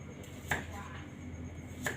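A knife chops shallots and lime on a cutting board in two sharp, separate strikes against faint background noise.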